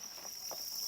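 Crickets raised for food on a hot, dry Thai insect farm keep up a steady, high, continuous trill, fairly faint, with a couple of soft rustling knocks underneath and no voices.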